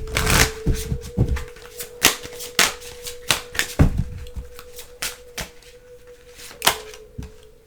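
Oracle card deck shuffled by hand: a close, uneven series of crisp riffling snaps and flicks over a low steady tone, with no talk.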